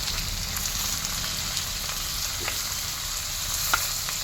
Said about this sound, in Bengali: এবার আমি দেবো পেঁয়াজ দিচ্ছি।